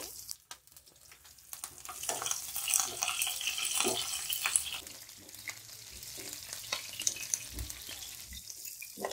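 Ghee sizzles and crackles steadily as cumin seeds, dried red chilies and green chilies fry in a tempering for Shahjahani kadhi pakora, with occasional stirring clinks over the continuous close frying hiss.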